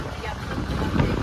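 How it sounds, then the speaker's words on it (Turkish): Strong wind buffets the microphone outdoors at a wedding-day gathering, a steady loud rushing roar with no speech heard over it. "Çok rüzgar var."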